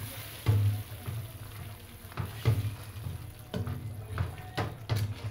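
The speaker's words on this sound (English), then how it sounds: "And then I'll stir." Fried liver and beef hump in a pan are stirred with wet and dry fry spice, a soft sizzle under repeated scraping strokes of the spoon at a steady rhythm, close and moderately quiet.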